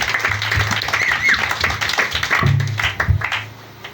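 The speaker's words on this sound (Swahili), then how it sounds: "makofi mazuri" A church congregation clapping in loose rhythmic bursts, close and fairly loud, with some voices mixed in.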